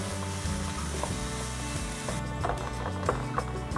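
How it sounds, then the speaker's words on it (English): Ground beef browns in a hot skillet with a little olive oil, a steady close sizzle running under louder background music throughout. "So now we're going to work on just browning the meat."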